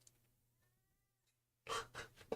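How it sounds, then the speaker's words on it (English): A house cat lets out two or three short, loud meows close up after a quiet stretch of faint room noise. "Oh, shush, kitty."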